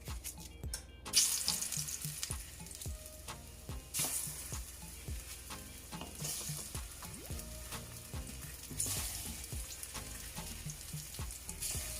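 Half a plantain frying in a pan on a stove set to medium, a steady close sizzle with sharp spits and pops and a few brief utensil clinks, with no talking.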